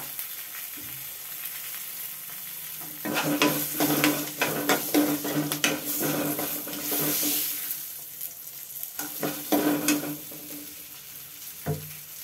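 A tempering of spices frying in a pan with a pinch of asafoetida for Andhra-style raw mango pulihora: a constant sizzle beneath bursts of spoon stirring and scraping against the pan, close and clattery, with no voices.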